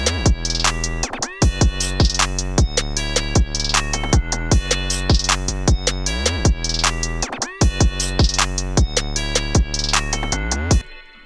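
A finished hip-hop beat built on a Disney toy keyboard plays with sidechain processing. Deep bass pulses and punchy drum hits drive a steady loop, and there is a short dropout partway through. It plays loud and alone, with no talking.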